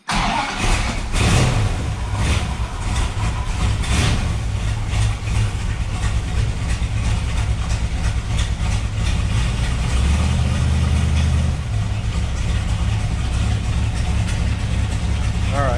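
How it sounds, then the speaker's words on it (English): Car engine idling with a bad clutch throwout bearing, a loud, steady mid-pitched running sound that continues throughout, with a voice speaking over it. "if you've never heard what a bad throwout bearing sounds like, I have a video clip that you can hear right now."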